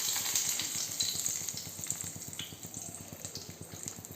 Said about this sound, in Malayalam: നമുക്ക് ആദ്യം കരിയാപ്പില ഇട്ട് കൊടുക്കാം